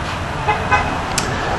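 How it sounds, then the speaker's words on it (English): A car horn gives a couple of short toots from some distance, heard over steady low road and background noise. "Somebody was honking."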